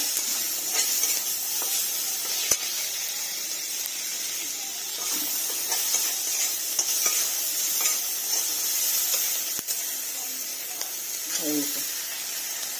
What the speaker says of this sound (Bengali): একটু পেঁয়াজটা নেড়ে নেব, একটু হালকা করে নেড়ে নিচ্ছি